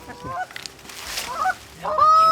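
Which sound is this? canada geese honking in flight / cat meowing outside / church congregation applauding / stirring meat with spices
canada geese honking in flight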